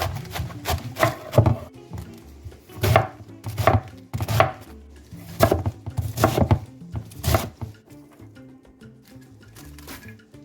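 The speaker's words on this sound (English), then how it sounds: "I'm just gonna put a little, chop up a few mushrooms" A knife chops a few mushrooms on a cutting board in a home kitchen, giving steady clusters of sharp taps that come in uneven bursts with short pauses between them, close by and fairly loud, with no talk.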